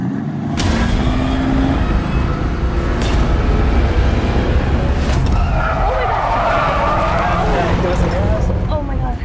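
A police training car spun out in a PIT maneuver on a track: loud continuous engine roar with screeching tire skids, voices talking over it.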